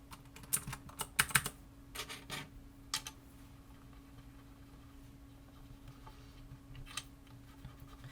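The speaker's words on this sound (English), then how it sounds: "do just like one of those stupid typing ASMR videos, since I do have this loud-ass keyboard" A loud computer keyboard is typed on in close, irregular bursts of sharp clacks, heaviest at the start, then thinning to scattered keystrokes over a steady low hum.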